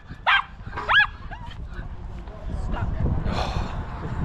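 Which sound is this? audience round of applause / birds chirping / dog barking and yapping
dog barking and yapping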